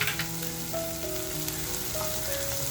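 Kharda masala frying in a pan, a steady close crackling sizzle with faint tonal hums underneath, continuous for under three seconds with no voices.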